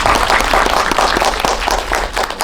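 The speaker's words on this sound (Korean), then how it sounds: "박수 한번 드릴까요?" Audience applause at a Korean cinema talk event for the film Dustman, a dense, steady wash of clapping filling the room throughout with no pauses.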